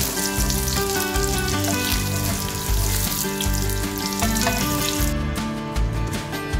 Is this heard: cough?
no